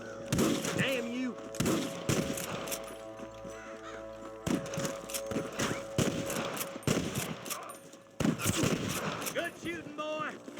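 Gunfire rattles through a shootout with snipers in Red Dead Redemption 2, with repeated sharp bursts and volleys over a droning musical backdrop and occasional shouting voices.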